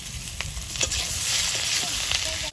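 Onions frying in a pan for a river fish curry, seasoned with salt and turmeric, give a steady, close, loud sizzle with a few faint stirring scrapes over it.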